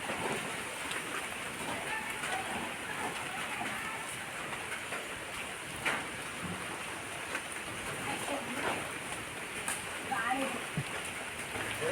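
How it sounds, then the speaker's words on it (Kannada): Evening rain falls in a steady wash with strong wind and a low, rumbling undertone of thunder, a few soft knocks scattered through. "ಗುಡುಗು ಮಿಂಚು ಸಣ್ಣಕ್ಕೆ ಮಳೆ ಆಗೋದು ಗಾಳಿ ಜೋರು ಬರೋದು"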